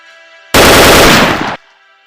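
A loud, dense burst of machine-gun fire lasting about a second erupts from a quiet background in a Telugu historical film scene about Alluri Sitarama Raju, then cuts back to near silence.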